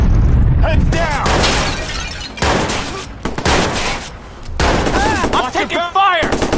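Gunfire in the video game Watch_Dogs, dense bursts of rapid shots and shattering impacts, loud and continuous with short gaps, with voices shouting over the shooting.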